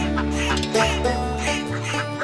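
Ducks on a riverside duck farm, a flock quacking and honking in a dense, fairly loud chorus, no voices.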